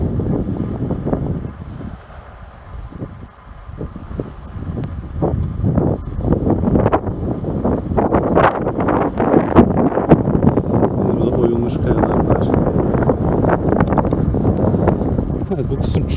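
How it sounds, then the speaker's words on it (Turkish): Strong wind buffets the microphone on a seaside walking path along carved rocks at Alagadi Beach near Kyrenia, a steady roar with gusts throughout while a person speaks over it. "Evet, bu kısım çok rüzgarlı."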